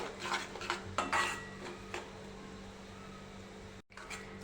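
Stuffed chillies with a mustard-seed masala are stirred in a hot kadhai with the flame off, giving a few clinking scrapes of a spoon against metal at first, then a quieter, faint stir.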